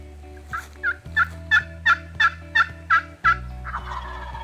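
A wild turkey gobbles in a rapid run of about eight sharp calls over a low steady hum, clear and fairly close, ending with a softer rustling tail.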